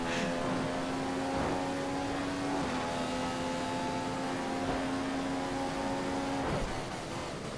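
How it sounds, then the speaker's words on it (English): Ferrari Formula 1 car engine in the racing game F1 2015, a continuous high-revving tonal drone with gear-shift steps in pitch, steady and close with no talking. "I'm driving a green Ferrari, you see."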